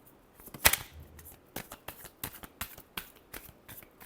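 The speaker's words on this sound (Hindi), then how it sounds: "लास्ट शफल, क्या एक्वेरियस के पर्सन एक्शन लेंगे।" A deck of tarot cards is shuffled close up, giving a quick flurry of crisp riffling snaps and light slaps in an irregular rhythm, fairly quiet and with no voice over it.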